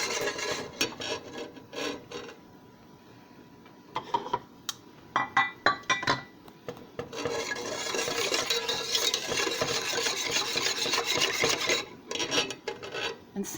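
A whisk scrapes and clinks against the inside of a pot of rice custard, with scattered metallic taps followed by a long stretch of continuous rasping stirring, close and moderately loud.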